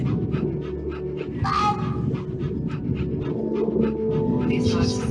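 A dog panting and whimpering in the video game That Dragon, Cancer: fast rhythmic panting breaths throughout, with a short whine partway through, heard under someone talking.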